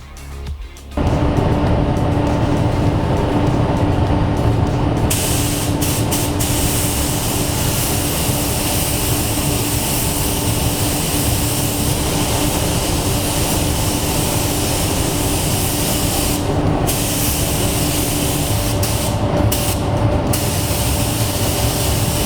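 A spray gun lays metallic black base coat onto a Triumph motorcycle tank, a loud, close, continuous hiss that runs nearly unbroken for over twenty seconds, with only a few brief dips.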